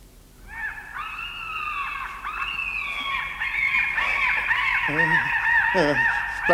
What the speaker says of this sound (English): Black seagulls.